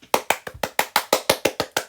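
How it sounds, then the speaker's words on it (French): Penguins clapping as a storybook sound effect: about a dozen quick, crisp claps in a steady, lively rhythm, close and clear with no voices. "Célestin et Pio applaudissent."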